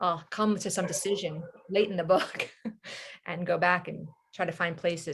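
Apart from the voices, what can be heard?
No distinct noise like a dog, phone or traffic.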